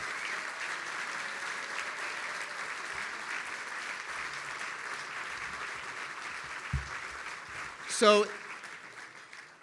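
Audience applause at an advocacy organization's 2025 gala, a steady sustained wash of clapping from a large room that runs for several seconds before fading, with a brief word spoken near the end.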